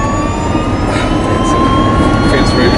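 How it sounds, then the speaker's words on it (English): Sono Motors Sion electric car prototype accelerating with no cabin insulation, a loud continuous motor whine with rising tonal lines and heavy low rumble, steady throughout. "we don't have any isolation in the car, so you can actually hear the sound of the engine."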